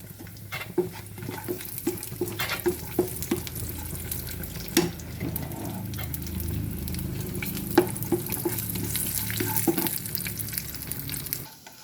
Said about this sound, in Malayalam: കാശ്യൂനട്ട് ഏകദേശം മൂത്ത് വന്നിട്ടുണ്ട് ഈ സമയം നമുക്ക് ഉണക്കമുന്തിരിയോട് ചേർക്കാം